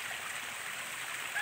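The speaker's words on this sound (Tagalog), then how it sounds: "Ayan na mga tubig ngayon ay nagagaling po yan dun sa mga bahay-bahay dito sa aming subdivision" Water from houses runs through a subdivision drain in San Jose del Monte, Bulacan, giving a steady, even rushing flow with no breaks over the short moment.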